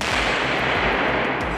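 A loud burst of gunfire cracks over a constant noisy roar, with several sharp transients spread through the clip, in forest combat on the Donbas front line.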